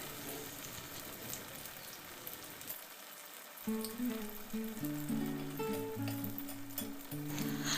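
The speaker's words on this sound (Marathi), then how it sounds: "आता यामध्ये आपण वडे घालून घेऊ आणि मिडियम गॅस फ्लेमवर वडे छान दोन्ही बाजूंनी एकसारखे छान तळून घेऊया" Methi vadas fry in hot oil over a medium gas flame, giving a soft, continuous sizzle that stays quiet throughout, while tonal music joins partway through.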